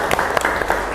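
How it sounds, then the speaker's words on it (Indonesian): A classroom of students applauds a classmate's poster presentation with a quick, close burst of scattered clapping that lasts about a second. "Tepuk tangan."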